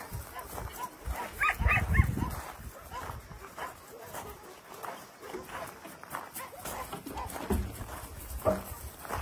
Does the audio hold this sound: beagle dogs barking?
yes